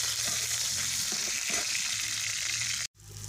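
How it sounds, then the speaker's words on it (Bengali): Eggs fry in hot oil in a pan over a clay stove, with a continuous close sizzle and a few stirring scrapes. There is a brief break near the end before the sizzling resumes. "এখন ডিমগুলো ভেজে নিব।"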